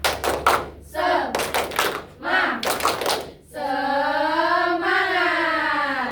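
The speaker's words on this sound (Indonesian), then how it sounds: "Kita akan ice breaking tepuk semangat." A classroom of pupils does a rhythmic spirit-clapping ice breaker during a weather lesson: several brisk claps and thumps in bursts, then a sustained chanted vocal tone from the group, loud and close.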